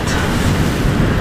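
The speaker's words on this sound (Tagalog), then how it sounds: "narinig ko yung malakas na mga tunog ng alon, pero parang umaambon din sa labas." Loud ocean waves near a lighthouse campsite in Baler make a brief, continuous roar of broad, rushing surf noise with no voices.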